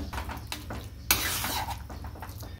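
Frozen peas being stirred and sautéed with vegetables in a pan for Mumbai-style pav bhaji, with a spoon scraping and clinking against the metal in a steady rhythm, a sharp knock at one point, and a soft sizzle underneath.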